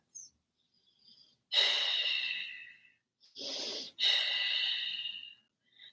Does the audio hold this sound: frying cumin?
no